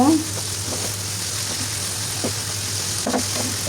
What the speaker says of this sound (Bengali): এখন ঢাকনা খুলে আবার নাড়াচাড়া করে আর একটু ভাজি করে নিব